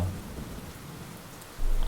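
Rain pours steadily while a low rumble of thunder rolls underneath, swelling louder near the end.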